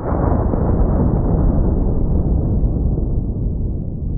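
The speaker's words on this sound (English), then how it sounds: "This is my Kel-Tec SU-16, and I'm gonna be loaded up with some Underwood ammo, 223 Controlled Chaos." A Kel-Tec SU-16 rifle fires .223 Underwood Controlled Chaos ammunition at fiberglass body armor, a loud, heavy blast whose dull, muffled boom rolls on and slowly fades over several seconds.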